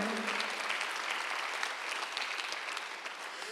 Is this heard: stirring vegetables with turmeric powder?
no